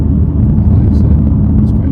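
A BMW M4 Competition LCI F82 accelerates on a damp, partly wet road, giving a deep, steady engine rumble heard from inside the car.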